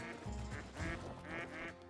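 Ducks quack in the hunting video game Call of the Wild, several short nasal calls in a loose irregular run, fairly faint against a low game ambience.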